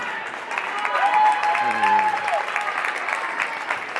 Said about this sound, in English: Nice round of applause for Jemima as she leaves this game.